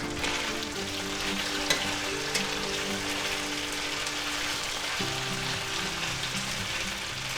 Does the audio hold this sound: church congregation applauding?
no